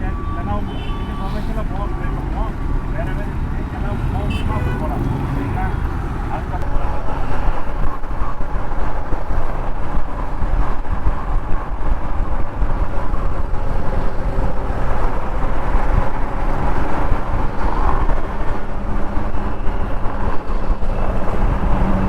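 A Hayabusa motorcycle riding on the road, engine droning under strong wind buffeting that grows louder partway through, with a rider's voice talking over it.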